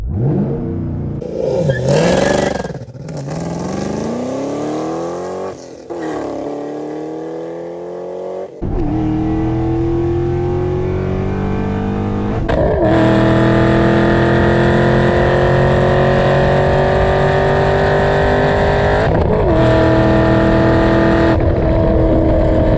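A Chevrolet Camaro ZL1 launches and accelerates hard on a run to 130 mph. The loud engine note climbs through several gear changes with short breaks between shifts, then holds a sustained high roar close to the microphone, and nobody talks over it.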